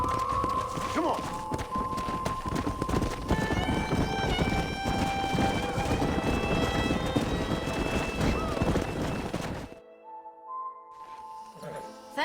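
Horse hooves galloping in the Western game Red Dead Redemption, a fast continuous clip-clop of hoofbeats under a musical score and voices that breaks off near the end.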